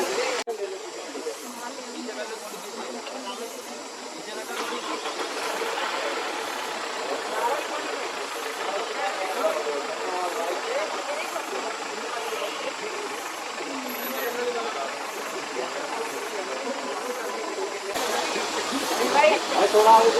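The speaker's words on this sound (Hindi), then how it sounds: "गाड़ी ऊपर भी जा रही है।" A vehicle climbs uphill along a forest road in a hot, dry tiger jungle. A continuous engine drone sits under a strong airy hiss and wind rush, steady and fairly close throughout, with faint voices now and then.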